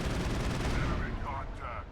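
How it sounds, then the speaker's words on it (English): A rapid stream of assault rifle fire in the game Mass Effect hammers out close and loud, merging into a continuous, noisy barrage that tails off slightly toward the end. "Pull out the assault rifle because we can."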